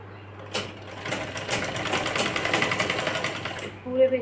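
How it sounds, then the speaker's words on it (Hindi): A sewing machine runs steadily, stitching around the edge of a girl's frock dress, with a continuous rapid whirring that starts after a brief pause and stops just before the end. "इसके किनारे किनारे पे इस तरह से पूरे पे सिलाई लगा लेंगे हम।"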